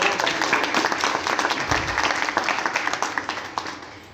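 Audience at a religious installation ceremony gives sustained, dense applause for the Gurudev, a steady wash of many hands clapping that rises then slowly fades toward the end, with no voices on top.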